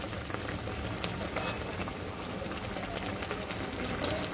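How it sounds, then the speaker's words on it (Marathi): Street-style bread pakoras deep-fry in oil with a dense, continuous bubbling crackle, close and even throughout. "आपले हे ब्रेड पकोडे छान तळले"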